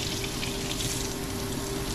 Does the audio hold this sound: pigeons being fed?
no